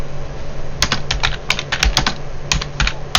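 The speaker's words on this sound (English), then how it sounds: "I'm just typing you something here" Fast, close bursts of key clicks come from a computer keyboard, tapping in uneven clusters with short pauses between them, alone with no talk.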